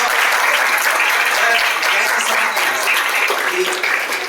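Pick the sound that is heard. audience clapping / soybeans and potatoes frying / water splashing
audience clapping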